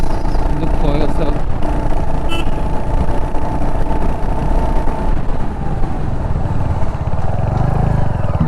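A 2022 Royal Enfield Hunter 350 motorcycle engine rumbles steadily while riding, loud and continuous with wind and road noise, and a voice talks over it.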